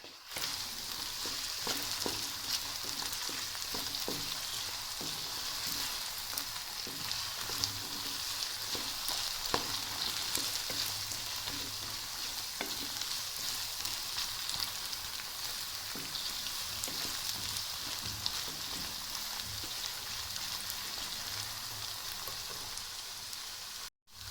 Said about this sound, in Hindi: अब मैं इसमें अपनी सब्ज़ मिर्च ऐड करेंगे